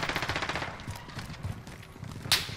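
Gunfire in Call of Duty: Modern Warfare: a rapid automatic burst up front, then sparser shots trailing off, with one sharp crack near the end.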